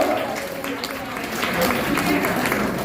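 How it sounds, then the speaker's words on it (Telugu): An audience at a women's awards event claps for a woman named Bhargavi, steady applause heard close up with a voice talking over it. "భార్గవి గారి కోసం గట్టిగా చప్పట్లు."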